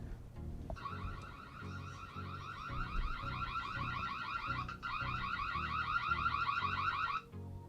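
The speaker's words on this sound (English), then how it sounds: "the doorbell will sound a louder alarm and will stop automatically after 10 seconds" Xiaomi IMILAB video doorbell sounding its alarm: a continuous warbling electronic siren tone that keeps cycling rapidly, steady and moderately loud, with a brief break midway before cutting off.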